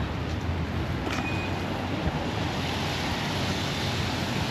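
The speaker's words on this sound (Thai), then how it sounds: "ลมแรงมาก" Strong wind roars steadily in heavy rain in Seoul, a dense broadband rush with no pauses, buffeting close to the microphone.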